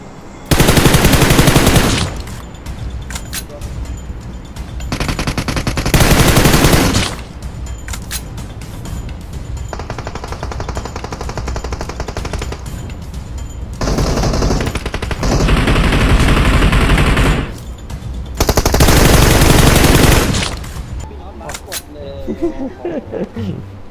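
Rapid automatic gunfire bursts from the mobile battle-royale game PUBG Mobile, loud repeated volleys in several clusters separated by quieter stretches of game ambience.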